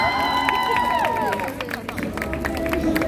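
A crowd at a Hongdae street busking show claps and cheers in a dense burst of rapid applause, with voices calling out over it.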